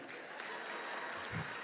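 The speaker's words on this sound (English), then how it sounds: "that you clap loudly for this one" Conference audience applauding after a speaker from Uganda is introduced, a steady, fairly faint wash of clapping throughout with a small swell near the end.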